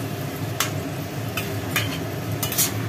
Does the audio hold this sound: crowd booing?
no